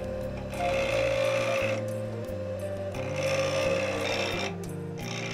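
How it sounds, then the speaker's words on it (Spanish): A loud, continuous mechanical whine with a buzzing, grinding edge, pitch dipping and rising as a spinning sanding disc on a sander bites into bone during carving. "se va con la lijadora, con el disco de lija, voy dándole corte, desgastando"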